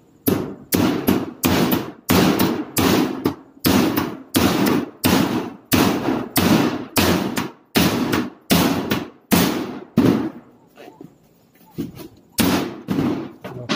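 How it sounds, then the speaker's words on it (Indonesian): Hammer blows driving nails into wood while a cage is built, about two dozen loud, close, regular strikes in quick succession with a brief pause near the end before the pounding resumes. "sudah kita tekan terus kita tukul"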